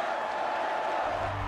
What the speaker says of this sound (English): The additional crowd sounds were carefully selected from a library of sounds